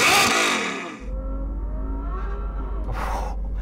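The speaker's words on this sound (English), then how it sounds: "Let's hear that naturally aspirated V12 from the Ferrari though." A Ferrari GTC4's naturally aspirated V12 with an aftermarket exhaust blips sharply at the start, then settles into a steady low idle with a second short rise near the end.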